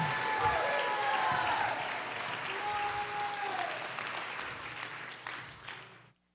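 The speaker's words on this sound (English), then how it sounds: "Somebody clap your hands and shout unto the Lord with the voice of triumph" A church congregation claps and shouts during apostolic preaching, with steady dense applause and raised voices that fade out toward the end, heard from a slight distance.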